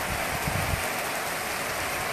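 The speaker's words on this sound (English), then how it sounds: "Today is the first day that it's raining. I can't believe it. Look at this rain," Steady rain falling in Hargeysa, a dense continuous hiss with a low rumble, close and loud, no voices.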